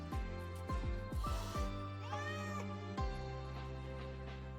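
A frightened cat meows repeatedly in the Wuthering Waves game, a series of short, close, falling mews followed by a longer wavering cry and a final drawn-out meow, with no talk over it.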